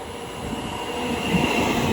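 A London Northwestern Railway passenger train pulling into Watford Junction on the West Coast Main Line, a steady close rumble of wheels and motors that builds slightly over two seconds.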